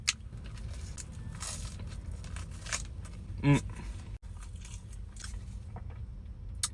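Someone bites into a toasted fast-food sandwich with crisp bread and chews it, giving close crunching and soft mastication sounds with one sharper bite, quiet and without talk.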